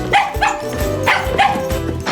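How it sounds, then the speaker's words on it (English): A dog barks desperately at a window, a run of loud, close barks and yelps repeating in quick bursts over music. "Bailey can only run to the window and bark desperately at Ethan outside"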